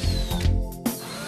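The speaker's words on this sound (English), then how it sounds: "Simply drill," A short burst of power drilling into wood for a concealed screw joint, the motor whining and dipping in pitch as the bit bites, then a brief stop and restart.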